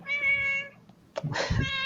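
A cat gives two clear meows, the first drawn out and tonal and the second following after a short gap, both close and loud.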